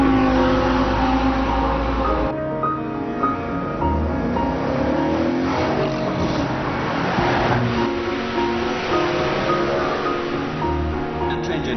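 A car driving, recorded inside and around the vehicle with digital microphones, a loud continuous engine drone that shifts pitch as it accelerates and changes gear, with voices over part of it.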